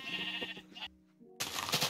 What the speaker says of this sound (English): Big sheep.